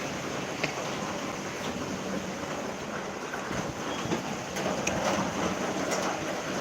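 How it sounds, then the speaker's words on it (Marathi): Dense, continuous hiss of heavy monsoon rain pours steadily in Titwala, with faint distant thunder rumbles underneath and no voices. "बघा आमच्याकडे पाऊस लागतोय"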